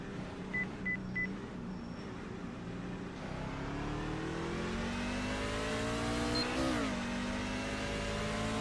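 NASCAR race car engine at Phoenix, a loud, steady mechanical drone that holds throughout, its pitch sliding as the car changes speed, with a sharper rise near the end.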